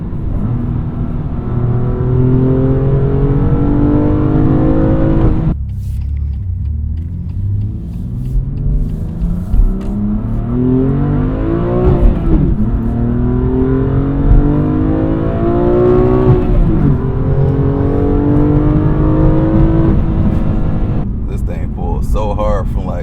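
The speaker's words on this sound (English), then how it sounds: "it's pulling really hard all the way up to red line" BMW M2 engine pulling hard to redline on a Detroit freeway, repeated loud rising revs through several gears with sharp drops at each shift, heard from inside the car as a continuous close roar.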